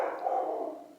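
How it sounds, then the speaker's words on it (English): Dog barking at a German Shepherd across the street, a single short bark that fades away over about a second. "they start barking like crazy"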